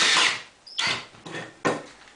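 A drill drives long square-head pocket screws into a wooden face frame: four short, close whirring bursts in quick succession, each starting sharply and winding down, with no talking.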